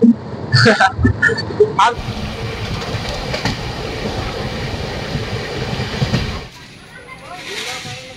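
The Dhauli Express pulls into Sakhigopal station on its way to Puri, a loud rolling rumble with brief voices at the start, then the rumble cuts out abruptly, leaving quieter station ambience.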